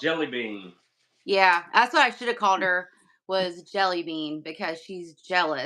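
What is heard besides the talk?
No distinct noise like a dog, phone or traffic.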